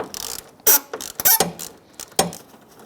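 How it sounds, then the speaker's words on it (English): A ratchet with a 10mm socket loosens a bolt on a 2007-2012 Nissan Altima, giving several sharp, close clicking bursts in an irregular rhythm with short pauses between. "you're going to loosen up this bolt with a 10mm socket"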